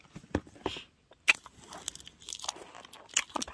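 Hard caramel-flavoured candy from a Daiso Love Time set is bitten and crunched up close: a string of sharp, brittle cracks and crackly chewing with short quiet gaps between bites.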